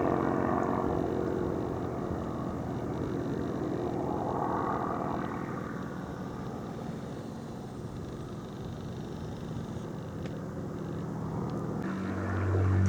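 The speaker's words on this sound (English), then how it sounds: "Getting a free air display here. Couple of old bombers." A pair of old bomber aircraft flying close together at an air display give off a distant, steady engine drone that swells and fades gently overhead, heard from a country walk.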